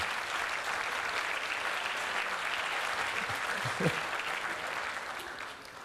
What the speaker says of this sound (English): I want to give a big round of applause to all the women in the room